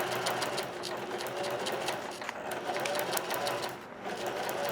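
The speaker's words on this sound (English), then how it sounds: "drop your needle and then back tag. So a few stitches, back tag, there we go." Sewing machine stitching fabric with a back tack, a close steady mechanical whirr of rapid needle strokes with brief dips in pace as it reverses.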